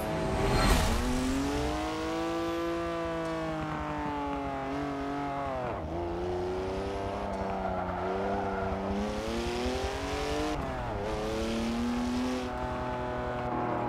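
A car engine in a racing video game revs and accelerates, its pitch climbing and falling through repeated gear shifts in a loud, continuous whine with tire-like screeches at moments.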